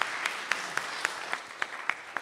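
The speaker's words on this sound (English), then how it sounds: "So another round of applause." An audience at a classical ensemble concert applauds in a small hall, a steady wash of clapping punctuated by a few sharp, regularly spaced loud claps from someone nearby.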